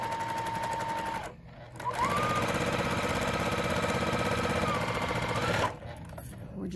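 A sewing machine runs fast, chain piecing quilt block seams: a close, rapid mechanical stitching hum that pauses briefly between pieces, then runs on again, with a voice heard faintly at times.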